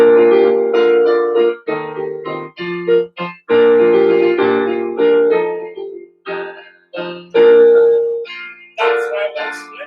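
Choir voices singing a layered Happy Birthday round, with parts entering one after another to build a rich, full chord texture, sustained and fairly loud throughout with brief breaths between phrases.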